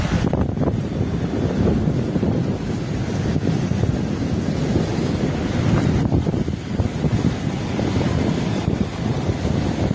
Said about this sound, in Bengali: জলের ফোর্স দেখো, আওয়াজ শুনো।